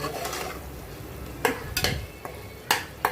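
Onions fry in a pan, cooking toward golden brown, with a soft continuous sizzle and several sharp, close scraping strokes of a utensil as they are stirred.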